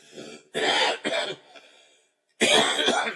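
Several harsh coughs in quick bursts, close by, with a short pause before two more coughs follow.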